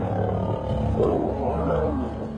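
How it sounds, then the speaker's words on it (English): Male lions of the Mapogo coalition in Sabi Sand clash in a violent fight, letting out deep, continuous, overlapping roars and snarling growls that stay loud and close throughout. "was roars and the most terrifying sounds"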